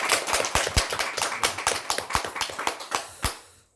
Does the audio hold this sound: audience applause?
yes